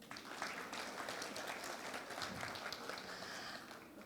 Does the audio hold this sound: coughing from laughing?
no